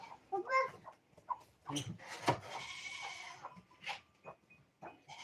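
Several goats bleating in short, irregular bursts nearby, mixed with snorting farm animal noises and some human voice in between.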